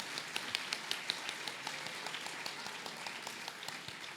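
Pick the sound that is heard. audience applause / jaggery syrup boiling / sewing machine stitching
audience applause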